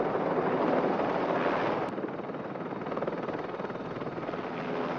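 Two police helicopters full of SWAT officers in the 1983 film Blue Thunder: a continuous, loud rotor drone with wind rush, steady throughout and heard alone.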